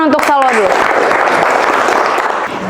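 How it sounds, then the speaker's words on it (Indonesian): Students in a classroom applaud a classmate in a short, loud burst of clapping. A voice trails off at the start as the clapping takes over. "tepuk tangan untuk Salwa dulu"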